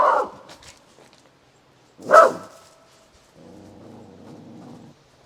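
A guard dog barks a warning at someone arriving at a tiny house build site, one loud sharp bark standing alone with quieter growly vocal sounds before and after.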